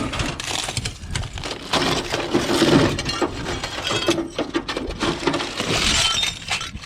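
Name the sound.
broken glass clinking in burnt truck wreckage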